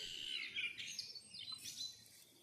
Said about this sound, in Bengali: এই কোয়েল পাখিটা কাল ঝড়ে বাগানে পড়েছিল